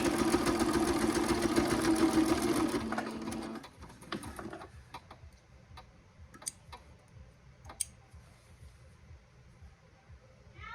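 A sewing machine stitches a potholder with a rapid, even ticking run for about four seconds, then slows and stops, leaving scattered soft clicks and handling noises, close and moderate in level.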